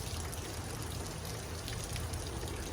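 Heavy rain in Savannakhet, Laos, falling as a dense, steady hiss with no pauses, close and loud throughout.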